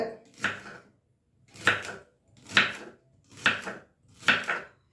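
Five separate knife strokes cutting through okra (ladies' finger) on a board, each a crisp close chop spaced about a second apart with quiet gaps between, no talk.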